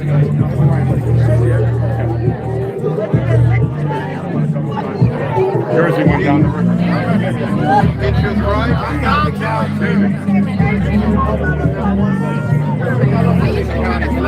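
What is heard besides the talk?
crazy crowd chattering at election results watch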